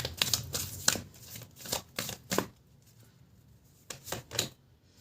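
Tarot cards are shuffled by hand in a series of quick papery riffles and flicks, coming in short bursts separated by pauses, close and fairly quiet.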